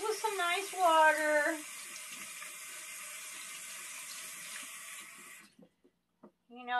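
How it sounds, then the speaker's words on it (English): Running tap water pours steadily into a sink as a face mask is rinsed, close and constant for several seconds before cutting off, with a brief voice at the start. "let's rinse this off, because I like to just rinse it off with some nice water."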